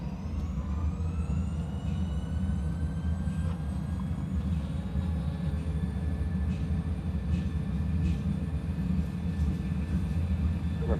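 Airliner engines on a Raya Airways cargo flight spool up toward takeoff thrust at Kuala Lumpur, a loud continuous roar with a steady low rumble and rising whine that holds throughout.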